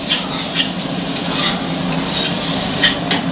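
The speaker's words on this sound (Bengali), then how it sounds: "তরকারিটা কষানো হয়ে গেছে বন্ধুরা, তেলও ছেড়ে দিয়েছে, যে মশলাগুলো লাফিয়ে লাফিয়ে উঠছে শুকিয়ে" Spiced potato curry frying in hot oil with spices crackling and popping, stirred continuously with a steady close sizzle and scraping, nobody speaking.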